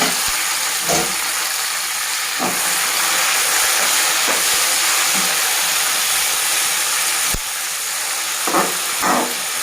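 Chopped tomatoes go into a pan of fried peanuts for a coriander chutney and hiss steadily in the oil. A loud, continuous sizzle carries on throughout, broken by a few soft clicks.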